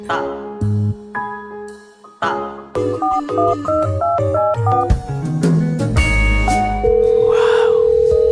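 A phone being dialed for a call gives a run of short electronic keypad tones and beeps, then a steady ringing tone, heard up close with no talking over it.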